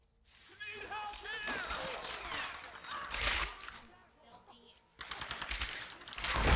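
Gunfire in the Tomb Raider video game, bursts of shots and crackling impacts, fairly quiet, mixed with game sound and chatter between players.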